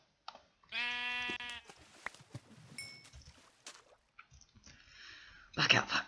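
A Minecraft sheep bleats in a clear, drawn-out harmonic call near the start, followed by clicks, footstep-like taps and short game noises, then a loud burst of noise at the end; no one speaks.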